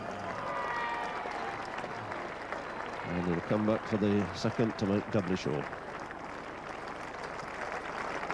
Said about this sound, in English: So a knowledgeable crowd here applauding Boycott